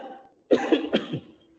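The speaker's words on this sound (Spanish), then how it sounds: "así que voy a toser un poquito" A man with a cold coughs several times in a quick, rough burst, close and clear in a quiet indoor space, with a softer murmur just before.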